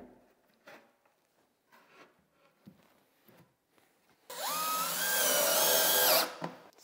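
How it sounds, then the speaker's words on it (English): A power drill drives screws into galvanized metal ceiling panels in a barndominium under construction, first with scattered quiet handling knocks, then one loud, steady whirring burst of about two seconds that winds down. "what I'll do is I'll screw in here."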